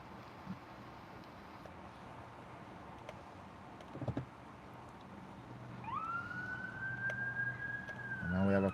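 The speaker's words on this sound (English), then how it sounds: "And now we have a police car" A siren, police car, ambulance or fire engine unclear, rises and holds a steady wailing tone near a bridge over a rail line, growing louder toward the end over a background hum with brief thumps.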